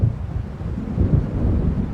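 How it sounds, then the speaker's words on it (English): Low, rolling thunder from an approaching storm in the video game Alan Wake Remastered rumbles on its own at moderate volume, with a hiss of wind or rain underneath. "It seems there's a storm coming."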